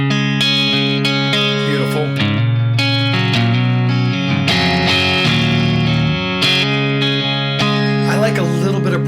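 Clean electric guitar chords and single notes ring out through a Bad Cat Jet Black amp with no compressor, bright and sustained, with a short spoken word near the end.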